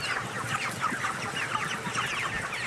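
Chickens cluck in a crowded poultry shed in Anseong, Gyeonggi-do, a dense chorus of short overlapping clucks and chatter at moderate volume.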